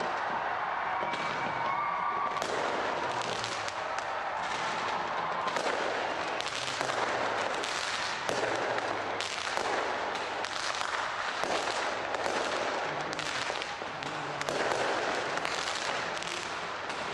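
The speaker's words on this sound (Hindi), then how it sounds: "न्यूजीलैंड में नए साल के मौके पर लोगों ने ऑकलैंड के स्काई टावर पर आतिशबाजी के साथ नए साल का स्वागत किया।" New Year fireworks explode over Auckland's Sky Tower in New Zealand. A loud, continuous barrage of bangs and crackling bursts repeats every second or so, without any voices.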